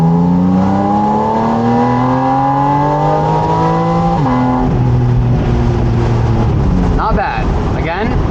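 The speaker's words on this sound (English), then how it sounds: "We'll get a little sound now, try to rev it up to 7." A Porsche Spyder RS sports car engine revs up to about 7,000 rpm, the pitch climbing steadily, briefly dropping, then rising again, loud and close, with a short voice near the end.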